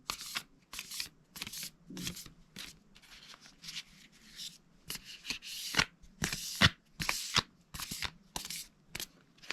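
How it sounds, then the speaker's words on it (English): Repeated crisp riffling bursts of tarot cards being shuffled close up, in quick irregular runs with short pauses, no talking. "let's shuffle the cards now"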